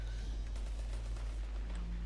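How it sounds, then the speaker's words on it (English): Distant rapid gunfire in the Destiny 2 campaign, a muffled fusillade of overlapping shots crackling under a heavy low rumble, fairly faint and continuous. "Oh, but there's gunfire."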